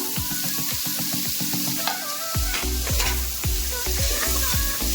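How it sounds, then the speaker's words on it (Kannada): Ginger garlic paste and tomatoes frying for mutton biryani, a steady loud sizzle with repeated spoon scrapes and stirring knocks against the pan, no talking. "ಶುಂಠಿ ಬೆಳ್ಳುಳ್ಳಿ ಪೇಸ್ಟ್ ಹಾಕೊಂಡು 2 ನಿಮಿಷ ಈ ಥರ ಚೆನ್ನಾಗಿ ಫ್ರೈ ಮಾಡ್ಕೊಳ್ಳೋಣ."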